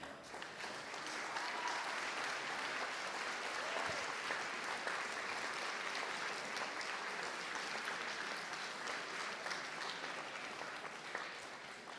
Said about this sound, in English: On peut bien les applaudir.